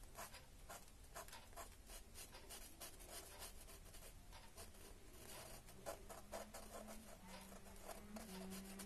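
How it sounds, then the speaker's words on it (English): A Sharpie marker draws and colors in a square on paper, producing quiet, rapid scratchy strokes in quick repeated bursts, close and faint with no talk. "drawing a square shape and coloring it in with the Sharpie or with the fine liner"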